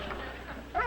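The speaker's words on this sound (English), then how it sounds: "I want you to cut out the howling." A dog gives a short, faint bark and whine, one brief burst near the end of a quiet moment.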